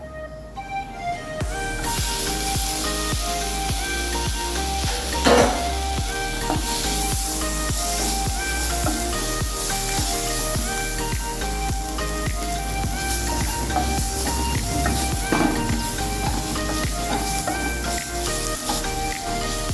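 Roasted spice powders for a bengalgram (kadala) curry sizzle loudly and continuously in a pan as tomatoes go in, a dense close frying hiss with occasional stirring clatters throughout.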